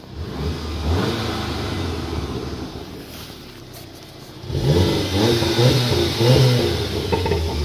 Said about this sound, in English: Rev it so you can hear the engine.